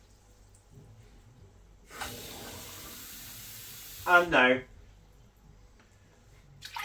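Tap water pours steadily into a pot to cook rice, a brief flowing rush that starts abruptly and stops, followed by someone speaking.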